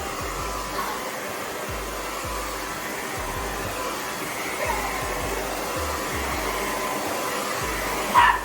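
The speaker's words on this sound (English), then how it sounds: "He just upset about the blow dryer, y'all." A Conair "Super Bird" hair dryer blows steadily and loudly throughout, a constant rushing whir with a brief louder burst near the end.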